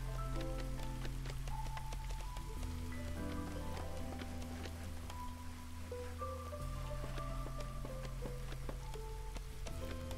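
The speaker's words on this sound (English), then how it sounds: "Still haven't even left the first drizzle." Light drizzle falls steadily in the video game Against the Storm, a soft continuous patter of raindrops with faint musical tones layered underneath and no speech.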